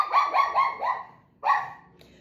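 A small beagle-type dog barks outdoors: four quick sharp barks in a row, a short pause, then one more bark, close and loud with no talking over them.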